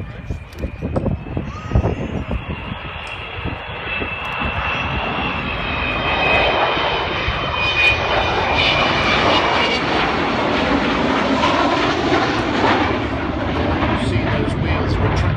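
An Avro Vulcan bomber passes low at an air show with its wheels down as if coming in to land, the engine roar building from a distant rumble to a loud, steady, whining drone.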